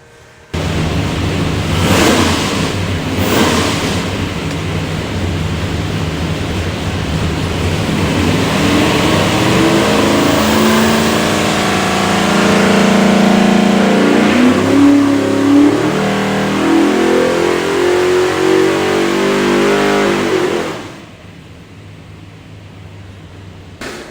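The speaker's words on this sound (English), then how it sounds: "we'll go light her off, make a power run, see what she does." A 697 hp all-aluminum big block Hemi roars through a power run on a dyno, climbing steadily in pitch and loudness for about twenty seconds before cutting off sharply, very loud and close.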